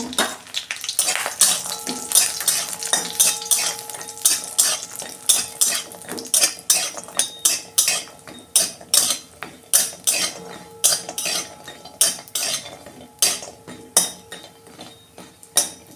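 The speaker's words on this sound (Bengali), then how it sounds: "বড়িগুলো ভেজে নেব।" Bori, small lentil dumplings, frying in oil in a wok, a steady sizzle under repeated close clinks and scrapes of a metal spatula against the pan, with no voices.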